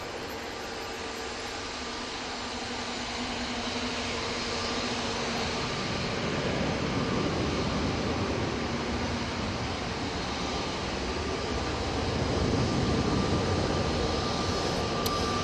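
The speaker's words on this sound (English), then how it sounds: "Aer Lingus A320 going back to Dublin." An Aer Lingus Airbus A320 jet departs Manchester Airport for Dublin, a steady broad engine roar heard from a distance that slowly swells in loudness, with no talking.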